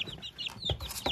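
Weak chicks sit huddled in a cardboard box, giving off a steady run of high peeping and soft cheeps, close and fairly quiet, with no voices.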